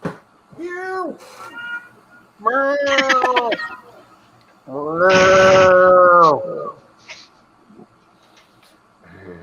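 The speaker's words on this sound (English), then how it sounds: "That's the sound of a happy cat." A cat meows three times, each a drawn-out, wavering cry, the last loudest and longest, with brief quiet gaps between.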